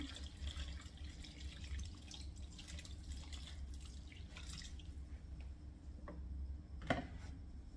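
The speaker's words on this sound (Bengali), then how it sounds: "গরম পানিটা দিয়ে দিই মধ্যে" Hot water poured into a pot of khichuri simmering on the stove, heard as a soft continuous watery trickle and drip under low kitchen hum, with a brief sharper splash near the end.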